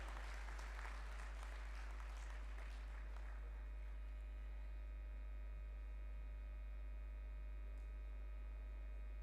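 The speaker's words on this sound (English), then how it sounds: "thank you for that applause" An audience at a convention inauguration claps in a brief burst of applause that fades after a few seconds, leaving a steady electrical hum.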